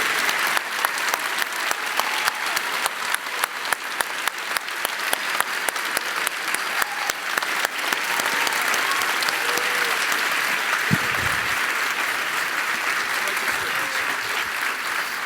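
An audience applauds at a speaker series event, sustained clapping from a sizable crowd that starts with sharp individual claps and swells into a dense, even roar lasting well over ten seconds.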